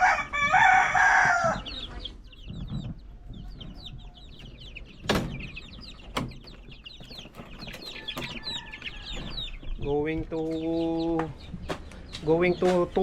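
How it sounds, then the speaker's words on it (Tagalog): Several young roosters, under two months old, crow loudly near and far, with scattered clucking and chicken chatter throughout, plus a couple of sharp knocks. "months pa lang yung mga manok na yun"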